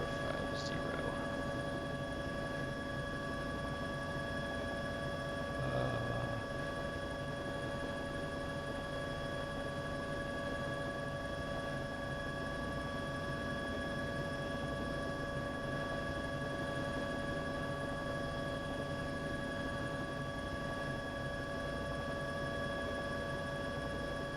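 A steady, droning engine hum of a Bell 206B3 helicopter in the X-Plane 12 flight simulator game, with constant tonal whine, continuous and unchanging throughout, with no talking.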